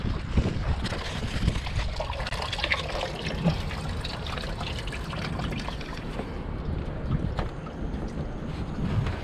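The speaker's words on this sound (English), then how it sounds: "We remove the pipe and we're draining the system now." Coolant drains from the cooling system of a 2011-2013 BMW X5 E70 xDrive35i after a pipe is removed during water pump and thermostat replacement, a steady, close liquid rush that runs without a break and without talk.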